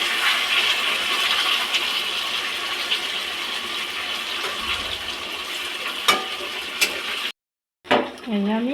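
Water added to a hot pan of raw fish frying in oil with black cumin for a mustard fish curry gives a steady loud sizzle and bubbling, then a brief gap before a voice speaks at the end.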